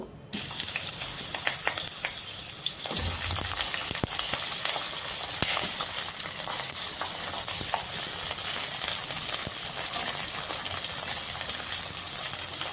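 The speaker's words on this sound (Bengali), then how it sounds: "প্রথমে আমি বেগুনগুলো ভেজে নেব" Eggplant fries in mustard oil in a wok, giving a loud, steady sizzle and hiss that runs unbroken from just after the start to the end, with faint scraping underneath.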